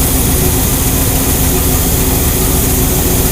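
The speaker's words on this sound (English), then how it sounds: "the motor sounded a little bit more stuttery" A 1969 Chevy V8 idles loudly and continuously up close while its carburetor is being adjusted, a dense, steady rumble with no talk.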